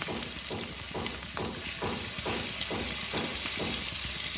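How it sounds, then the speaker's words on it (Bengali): Rohu fish pieces frying in hot oil in a wok give a close, continuous sizzle, broken by regular soft pulses roughly twice a second, with no talking. "এইভাবে যদি মাছগুলো ছাড়ো তাহলে তেল ছিটকাবে না এবং কড়াইতে লেগেও ধরবে না।"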